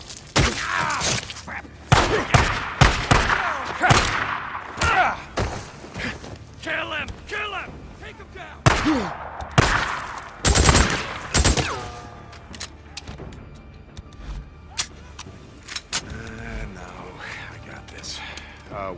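Gunfire in the video game Days Gone, scattered loud bursts and sharp shots in an uneven cluster early on, mixed with voices talking and quieter mechanical clatter afterward.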